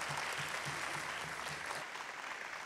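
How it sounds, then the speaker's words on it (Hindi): An audience applauds at a televised music competition, steady clapping that fills the room and fades slightly toward the end. "जोरदार ताली जितेंद्र भाई खातिर।"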